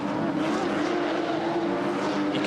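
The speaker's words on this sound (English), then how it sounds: "You can hear the cars porpoising over the bumps down at turn 4" Race cars roar continuously around a street circuit's turn 4 during a Carrera Cup session, engines droning steadily at a moderate distance as the cars bounce over bumps.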